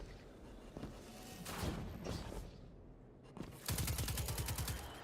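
Video game gunfire aimed at the player: scattered shots early on, then a loud, rapid automatic burst of closely spaced reports near the end, with no voices.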